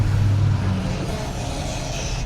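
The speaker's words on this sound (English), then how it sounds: "So we'll wait for these trucks to come through." Trucks roll past at a residential community entrance in Florida, a steady close engine drone and tire roar that fades slightly as they move through.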